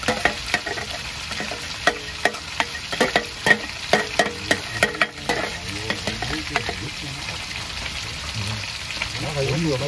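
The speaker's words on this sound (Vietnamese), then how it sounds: "Đây ông thợ ông nấu ông chiên con cá nè." A fish fries in a pan on a home stove, giving a dense, continuous close sizzle punctuated by repeated sharp clicks and scrapes of a utensil against the pan.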